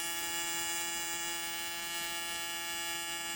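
Steady electric buzz with a strong mains-like hum from an arc welder running a bead on a cast metal part, constant and close, with no talking.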